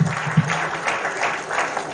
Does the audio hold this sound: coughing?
no